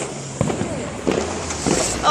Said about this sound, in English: there's fireworks literally everywhere